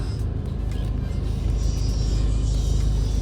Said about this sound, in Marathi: ट्रॅफिक जाम करून ठेवलंय मालवणमध्ये ह्या सर्वांनी.